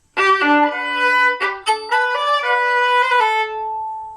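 A violin plays a short passage slowly, a few sustained bowed notes with slight pitch slides, alone and close, ending on a fading held note.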